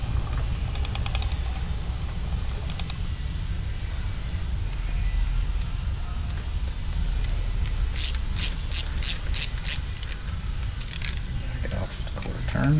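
A Milwaukee 8 engine's gear drive cam is turned by hand during an engine build, giving faint clicking and ratcheting gear noises under a steady low hum, with sharper clicks toward the end.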